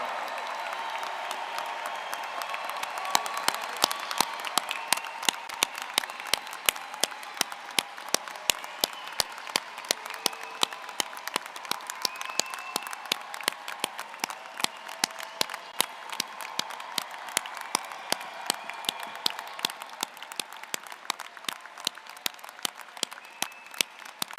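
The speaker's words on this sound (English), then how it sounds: "let's give one last round of applause for the class of 2024" Sustained applause from a large crowd at an economics commencement, dense clapping rolling on steadily for over twenty seconds.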